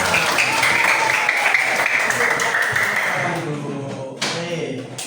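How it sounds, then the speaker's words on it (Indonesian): A school class applauds together during a coding and artificial intelligence lesson, a dense burst of clapping that fades toward the end, with a brief sharp knock near the close and voices mixed in. "Kembali tepuk tangan untuk kita semua"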